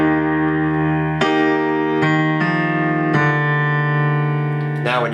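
Piano chords from a song ring out in a slow sequence, each new chord struck cleanly over the sustained previous one, played alone and close.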